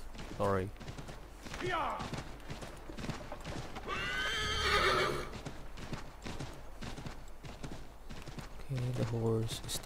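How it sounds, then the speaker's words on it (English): A horse in Assassin's Creed III whinnies loudly and close while its hooves clip-clop in a steady gait, with someone talking over parts of it. "the horse is tired"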